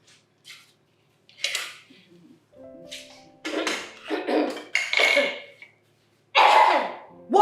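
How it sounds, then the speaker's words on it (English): Coughing and throat clearing in a home kitchen scene from a Nollywood drama while tea is being made: several harsh bursts of varying loudness, close by, with faint clinks of dishes between them. "I better let me cough in peace."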